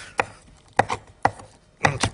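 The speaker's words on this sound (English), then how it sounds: "I'm going to get some great chocolate, and I'm going to cut it up" A knife chops a block of chocolate on a cutting board, five or so crisp, close knocks at an uneven pace with quiet gaps between them.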